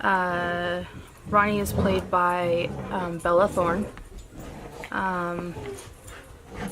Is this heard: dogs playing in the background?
yes